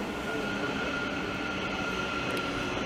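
Train at Harlington station, heard from inside a waiting shelter as a continuous loud rumbling roar of a passing train with a steady high whine and no breaks.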